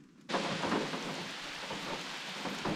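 Heavy rain pours down outdoors at Lake William Hovell, a dense, steady hiss of drops on surfaces that starts abruptly and stays loud and close throughout, with no voices.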